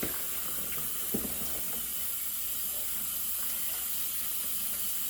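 A kitchen tap runs steadily into a sink while dishes are washed, a continuous close hiss of water with a few soft clinks near the start.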